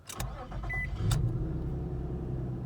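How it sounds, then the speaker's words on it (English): A 2004 Nissan Xterra 4x4 with a 3.3-liter V6 cranks briefly, catches and settles into a steady, close idle that holds evenly to the end, with no talking. "as you can see, starts right up, no problem"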